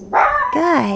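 A dog gives a short, sharp bark or two close by indoors during a beginner yoga session, with a voice briefly heard at the same time.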